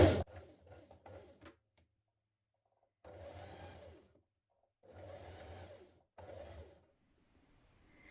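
A domestic sewing machine stitches a culottes waistband casing closed at the back over the elastic, running in several short bursts separated by pauses, close and fairly quiet, with no voices.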